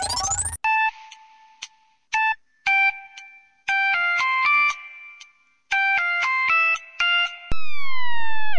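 Phone ringtone heard while calling someone, a loud electronic melody of bright, clipped tonal beeps in uneven bursts, ending in a long sliding tone, with no voices.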